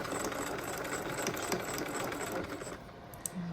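A sewing machine runs steadily while stitching a 5/8-inch shoulder seam on a lined yoke, a continuous quiet mechanical whir and rattle that eases off near the end.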